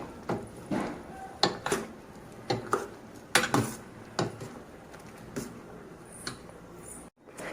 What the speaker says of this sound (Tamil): கலக்கி விடுங்க.